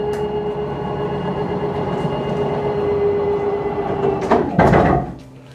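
A kitchen slide-out on a 2023 Forest River Sabre 38RLH fifth-wheel RV retracting, with a loud, steady motor drone and rumble that ends in a couple of sharp thuds as it stops.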